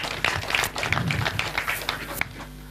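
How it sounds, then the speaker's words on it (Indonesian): Scattered clapping from an audience at a talk on religious tolerance, a thin run of individual claps rather than a full ovation, fading out after a couple of seconds. "terima kasih, tepuk tangan"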